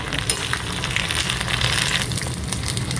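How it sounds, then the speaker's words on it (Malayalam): Ginger garlic paste sautéing in a hot pan for chinthamani chicken, a dense continuous sizzle with light stirring scrapes, close up and steady throughout. "ഇത് മിക്സ് ചെയ്യുക, നന്നായിട്ട് ഒന്ന് സോട്ട് ചെയ്യുക."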